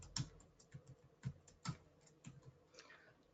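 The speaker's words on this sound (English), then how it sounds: "Just typing over the last one." Keys clatter on a computer keyboard in short, irregular bursts of close, quiet clicks with brief pauses between them, and nobody speaks.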